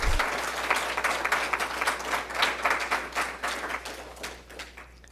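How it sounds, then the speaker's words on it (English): An audience applauds two students being honored for academic achievement at a school board of education meeting: steady, dense clapping from a roomful of people that swells and fades a little over several seconds. "please join me in applauding and honoring Devin and Eleanor for their academic achievements"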